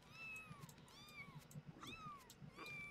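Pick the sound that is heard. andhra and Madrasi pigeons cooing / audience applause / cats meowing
cats meowing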